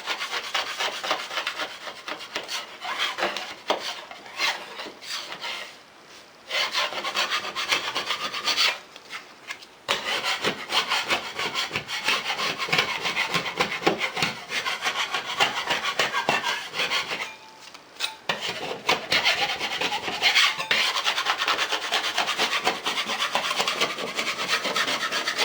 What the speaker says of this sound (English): I'm going to use this 4-inch blade right here to scrape that away